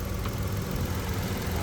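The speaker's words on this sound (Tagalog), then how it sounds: "Okay, ito guys yung engine ng ating Mitsubishi Mirage G4 GLS." A Mitsubishi Mirage G4 GLS engine idles steadily and close by, a continuous low rumble with a broad hiss on top that holds an even level throughout, with no revving or speech.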